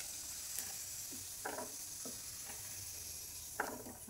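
Potato pieces fry in hot oil with a faint, continuous sizzle. Occasional soft stirring taps come from close by, and no one speaks.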